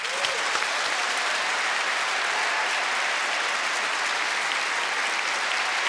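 Sustained, even applause from a large audience at a gospel choir competition, a dense wash of clapping holding steady throughout with no voices.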